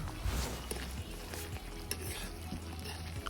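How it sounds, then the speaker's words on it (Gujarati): Cooked tomato is stirred in a sizzling pan in a village kitchen, a spoon scraping and clacking in a few rounds over a steady low fry, close and fairly quiet, with no talking. "તો ટામેટું બરાબર ચડી ગયું છે તો એને થોડીક બરાબર મિક્સ કરી લઈએ"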